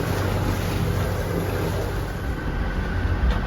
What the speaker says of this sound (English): You can hear the engine in the background.